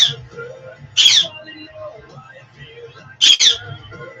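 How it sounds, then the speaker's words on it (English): A pet bird gives two sharp, shrill squawks about two seconds apart, close and loud, with quieter chirps and soft room noise in between. "I got a crazy bird I want to strangle."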